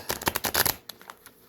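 Stiff tarot cards riffled in a quick shuffle, a dense burst of papery flutters lasting under a second, followed by a few scattered soft card taps, close and fairly loud.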